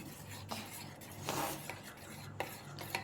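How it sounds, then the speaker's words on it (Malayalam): Beaten egg with salt is stirred for an omelette, soft close scraping and rubbing strokes in a quiet room, with a few light clinks of utensil against bowl. "ഇളക്കിക്കോ കുഞ്ഞ്"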